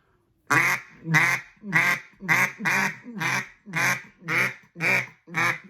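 A hand-blown duck call runs through a cadence and a welcome call: ten loud, close quacks in a steady rhythm, each shaped by hand, with no talking.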